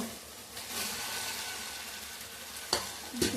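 Fried egg, potato and soybean being sautéed in spice masala in a pan, a soft continuous sizzle with stirring, then two sharp clattering knocks near the end.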